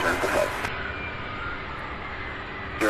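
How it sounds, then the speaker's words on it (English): A UPS Airbus A300 airliner arriving at Louisville airport gives off a distant, steady engine roar, with a brief voice at the start before the low drone carries on alone. "This next flight arriving out of Dallas Fort Worth, UPS 765 and A300."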